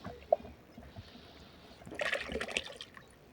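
Liquid natural fertilizer solution pours into a bucket of water for feeding a cherry tree, a soft splashing trickle rising near the end after a quieter stretch with a single small tap.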